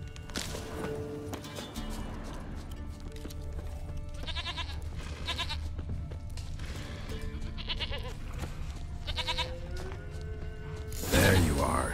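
A goat bleats in The Witcher 3 game, several short wavering bleats repeated at intervals over an ambient background with mechanical noises, ending in a sharp burst.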